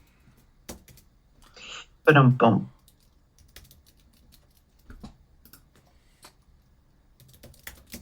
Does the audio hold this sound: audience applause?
no